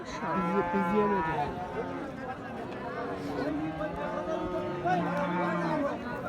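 Friesian cross cattle moo repeatedly at a livestock market, long low calls overlapping one another, with a busy crowd murmuring in the background.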